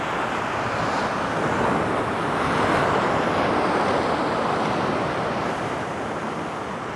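Ocean surf washing in on a rising tide at a sunrise landscape shoot, a steady broadband roar that swells slightly midway, with wind buffeting the microphone and no voices.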